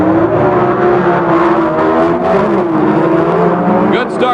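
Drag racing cars, a heavy Hemi-powered Plymouth V8 and a Pinto, roar loudly down the strip with a sustained, rising engine drone, while a commentator talks over it.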